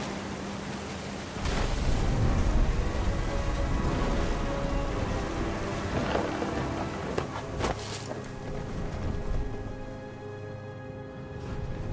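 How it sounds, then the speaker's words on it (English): Thunder and rain in the game What Remains of Edith Finch: steady heavy rainfall with deep rumbling swells that grow louder, plus a few sharper cracks, heard without talk. "The thunder sounded much too close and full of angry power."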